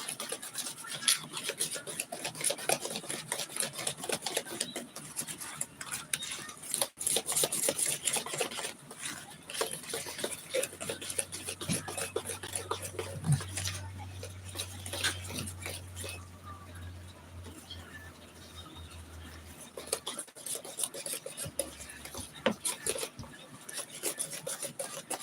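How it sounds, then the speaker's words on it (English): Whisk scraping and rattling against a bowl while mixing chocolate cookie batter, a close, continuous rhythmic rasp over a long stretch with faint clinks and a low hum in the background. "Whisk, whisk, whisk."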